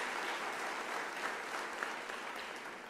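An audience at an academic year opening ceremony gives guests another round of applause, a steady wash of many hands clapping from a large crowd, fairly soft and even throughout.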